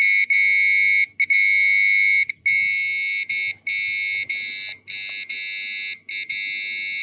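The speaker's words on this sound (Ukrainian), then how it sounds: "Включилась сирена." A loud, high-pitched electronic alarm siren from an electromagnetic radiation detector blares continuously, broken by brief irregular gaps.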